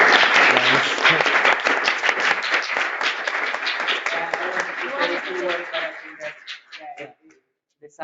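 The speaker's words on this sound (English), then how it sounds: "I think we can conclude with an applause to everybody" Workshop audience applause swells at once, dense clapping that thins into scattered claps and fades out near the end.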